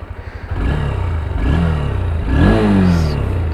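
A Honda NX 200 motorcycle idles with a quick pulsing thump, then revs up twice, its engine note rising and falling loud and close.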